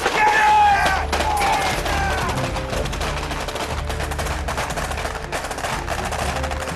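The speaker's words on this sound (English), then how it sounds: "Supported by covering fire" Sustained burst of gunfire as covering fire supports a section assault on an enemy house in a military exercise, dense and continuous shots with shouting voices mixed in throughout.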